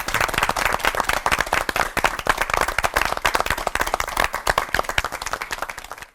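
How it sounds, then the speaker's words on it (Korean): A church audience welcomes a preacher with loud, continuous clapping from many hands, a dense, steady applause that runs throughout before cutting off at the end. "박수로 청해 듣겠습니다."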